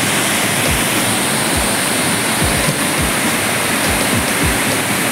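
Sawatkada waterfall near Murud roars as a dense, constant rush of falling water close by, loud and unbroken, with faint low thumps underneath and no voices.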